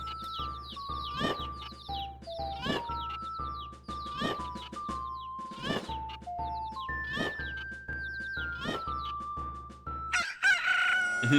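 Cartoonish chicken crowing and clucking from the game The Legend of Zelda: Majora's Mask, repeated squawking calls in quick succession over a steady electronic background tone, with a bright chime at the end.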